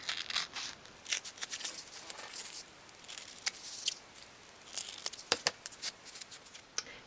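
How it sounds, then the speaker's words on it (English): Small scissors snip around a piece of card for a 1/12 scale miniature shoe storage bench, making crisp close cuts in uneven bursts with quiet pauses and faint rustling between them. "Once the glue has dried, you can cut around the piece of card."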